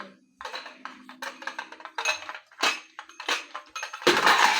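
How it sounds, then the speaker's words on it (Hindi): Dishes are washed in a home kitchen, with metal utensils and pots clanking and scraping in irregular bursts, close and fairly loud, ending in a louder rush of clatter. "तो चलो चलते हैं रसोई में, बर्तन धो लेते हैं पहले।"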